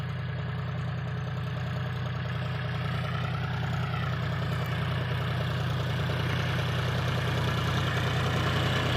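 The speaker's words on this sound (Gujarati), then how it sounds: "લો ભાઈ, આ ટ્રેક્ટર છે જોન ડીयर हमारे" A John Deere tractor engine idles at a steady low rumble, loud and close throughout, with a constant droning tone and no voices.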